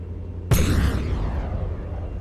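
A single sudden, heavy cannon boom in the game From the Depths, with a sharp onset and a rumbling decay.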